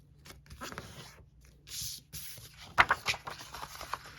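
Paper bag pieces, each 5 by 12 inches, being folded in half by hand, giving soft rustles and a few crisp crinkles and creases close up, with no talking.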